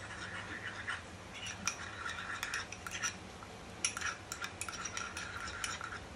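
Spoon or spatula stirring and scraping a pav bhaji mixture with ketchup and red chilli flakes in a pan, making quiet, irregular metallic clinks and scrapes, with no talking.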